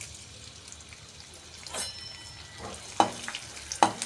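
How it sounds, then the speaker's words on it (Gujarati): Edible gum (gond) frying in hot ghee gives a soft continuous sizzle, broken by a few sharper crackling pops and brief stirring clinks near the end, with no talking. "તે આપણે થોડો થોડો ગુંદર નાખી અને તળતા જઈશું"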